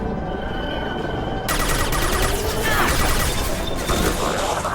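Sustained gunfire during the Suicide Mission in Mass Effect Legendary Edition, a continuous loud barrage of overlapping shots and impacts that thickens after the first second and stays dense throughout, with brief voice callouts beneath.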